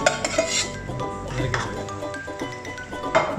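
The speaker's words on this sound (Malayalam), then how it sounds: "അതിലേക്ക് മാറ്റി വെച്ചിരുന്ന ബൂന്തി കൂടി ഇട്ട് ഇളക്കിയെടുക്കുക." Boondi is stirred in a pan for laddu, with a metal spoon scraping and clinking against the pan in quick, close, irregular strokes.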